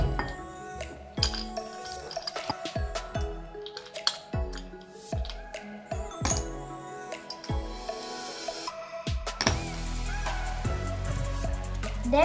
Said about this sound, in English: First, add some ice cubes.